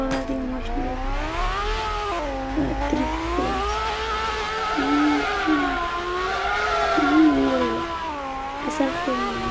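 A car engine revs and drives steadily, its pitch rising and falling in smooth waves as it accelerates and eases off, loud and continuous with brief tire noise.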